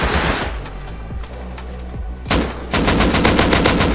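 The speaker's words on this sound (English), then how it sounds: "I don't even know where I'm getting shot anymore, man." Gunfire in the game Rust: a burst of heavy shots, then a few spaced distant pops, followed by sustained rapid automatic fire, loud and close, with no speech.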